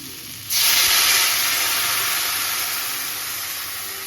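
Water hits a hot pan of fried fish with potato and cauliflower, starting with a sudden loud hissing burst of steam that holds steady and slowly fades over several seconds, close and alone.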